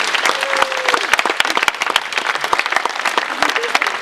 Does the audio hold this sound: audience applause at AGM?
yes